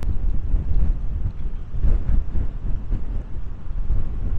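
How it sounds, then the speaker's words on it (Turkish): Strong wind buffets the microphone outdoors beside a docked Soviet diesel submarine, C-189, in heavy, continuous rumbling gusts, loud and close, with no other clear sounds. "acayip rüzgar esiyor"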